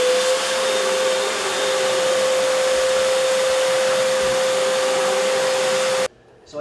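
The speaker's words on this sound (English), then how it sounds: "And we'll just vacuum that out." A vacuum cleaner roars steadily and loudly while cleaning out the heat exchanger of a Viessmann Vitodens 200 gas boiler, running continuously and then shutting off abruptly near the end.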